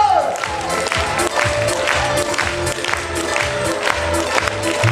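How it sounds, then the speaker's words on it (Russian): A concert audience at a performance applauds and cheers, with a thick steady roar of clapping, shouts and whoops and a voice calling out over the crowd. "Аплодисменты!"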